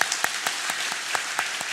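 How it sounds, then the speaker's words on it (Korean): Brief applause of comfort from a Korean church congregation during a Sunday service funeral greeting: a moderate spread of hands with distinct individual claps standing out at an irregular rhythm. "우리 박수로 위로하도록 하겠습니다"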